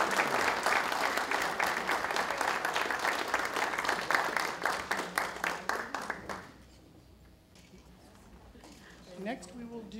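Loud, sustained audience applause at a university college of education faculty and staff awards ceremony, dense clapping filling the room for about six seconds before fading to quiet, with a voice starting near the end.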